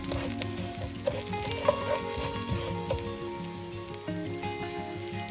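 Fennel and cumin seeds sizzle in hot oil in a pan for a Chettinad chicken curry, a steady crackling fry with occasional pops, close and continuous.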